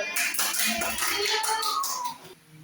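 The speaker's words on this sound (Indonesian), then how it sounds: "Tepuk tangan untuk kelompok 1" Classroom clapping for the first student group after their answer, a run of brisk claps from several hands with children's voices mixed in before it fades out.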